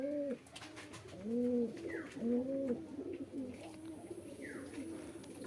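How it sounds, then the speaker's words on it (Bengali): A pair of newly bought pigeons, a male and a female, coo in repeated rolling phrases close by, with a few faint chirps from other birds behind them. "পায়রা দুটো কেমন হয়েছে বন্ধুরা বলবেন।"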